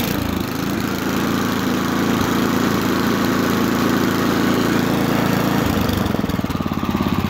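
A Snapper 7/24 walk-behind snowblower engine runs steadily at close range, a loud continuous mechanical drone with a slight change in tone near the end, with no voices.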